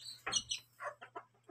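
A mother hen with her chicks gives a few close clucks, followed by a short run of soft, rhythmic calls, with a steady low hum underneath.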